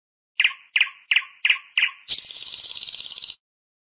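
Electronic nightingale song from a Fisher Price ABC Learning Zoo toy: five sharp, evenly spaced chirps followed by a rapid trilling warble, bright and fairly loud, with no other sound.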